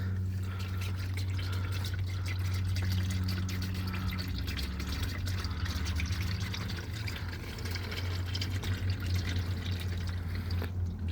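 Transmission fluid is poured into a 2021-2024 Nissan Rogue 2.5L during a drain and fill, a steady close liquid pour over a constant low hum, with no talk.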